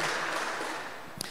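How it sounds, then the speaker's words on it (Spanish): A church congregation applauds during a Sunday service, a dense wash of clapping that fades steadily over a second or so and ends with a single sharp clap. "Ahora métale emoción, así fuerte, fuerte, apláudale."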